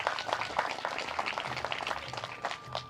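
Crowd in a village field at a Mahindra tractor trial giving a round of applause, a soft, distant patter of many hands with a faint steady tone beneath it.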